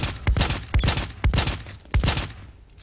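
Suppressed revolver fire in the shooter BRINK: four sharp, evenly spaced muffled shots, each with a brief low thump and crackling tail, loud and close with no talk.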